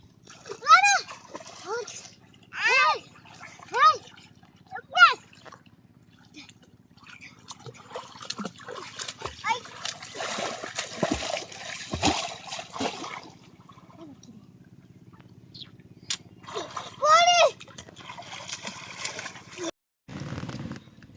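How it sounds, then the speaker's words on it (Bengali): Children jump and splash in a village pond beside a brick-strewn bank, giving scattered watery splashes and sloshing bursts mostly in the middle stretch, under frequent nearby talk. "শুধু এরা পুকুরে লাভ মারতেছে"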